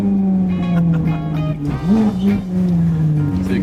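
A Ferrari 430 Scuderia V8 pulls hard from the cabin with a loud, droning engine tone that rises and dips briefly as it climbs, close and continuous throughout.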